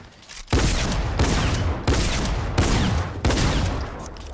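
Gunfire in Fortnite tears into a breakable wall, coming as five loud, sustained bursts of rapid shots, each cutting off abruptly after roughly a second.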